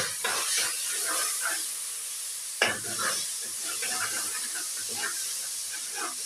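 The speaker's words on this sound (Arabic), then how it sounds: "وثوم وفلفل حر كده. هبتدي أشوحهم كده" Garlic, salt and hot pepper sautéing in a pan give a steady close sizzle with soft scraping stirs throughout and one sharp clink partway through.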